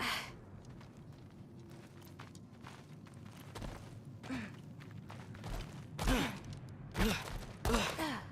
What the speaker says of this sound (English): I think I can hear something breathing near the back of the cellar.